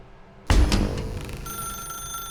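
An office telephone rings in the video game The Stanley Parable: Ultra Deluxe. After a short quiet lead-in, one loud, close, jangling bell ring bursts in and rings on as it slowly fades.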